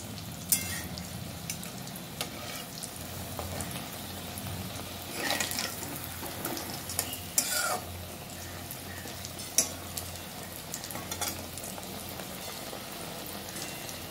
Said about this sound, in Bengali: ডবল করে আমি ভাজছি।